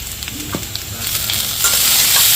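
Tomatoes hit a pan of frying mushrooms and get stirred, a few scraping knocks of the utensil followed by a swelling, steady sizzle that grows louder toward the end.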